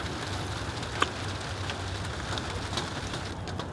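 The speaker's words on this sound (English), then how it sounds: "Before this rain started" Steady rain falling and pattering on a surface, a continuous dense hiss with scattered drip taps, close and even, with no talking.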